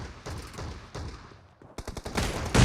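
Repeated gunfire from a shotgun fight in the mobile video game PUBG Mobile, with a run of loud, rapid blasts and clattering shots in quick succession, building toward a denser burst at the end.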